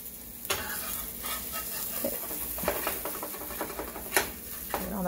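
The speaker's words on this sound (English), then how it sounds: "So I'm gonna scrape this up here. Just flip it one more time just for good measure." Bacon and egg fry in a pan with a continuous crackling sizzle, broken by several scraping taps of a spatula as the food is scraped up and flipped, all fairly close and moderately quiet.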